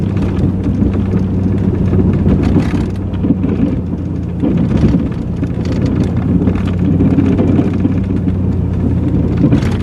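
Strong wind gusting outdoors after a snowstorm during snow plowing, buffeting the microphone with loud, rumbling bursts that rise and fall over a low engine drone, continuous for the whole stretch.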